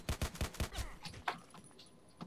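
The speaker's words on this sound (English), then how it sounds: "I don't know how powerful the pistol is going to be, but it seems like the rate of fire is pretty quick" Rapid pistol shots in the first-person shooter Contract Wars, about five sharp cracks in quick succession at the start, followed by fainter scattered game sounds and a couple of later isolated bangs.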